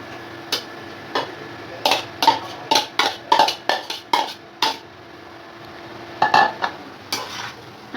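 Crumbled paneer for a spicy scrambled bhurji is stirred in a pan, a rhythmic series of sharp spatula clacks and scrapes against metal over a faint sizzle, close and without talking.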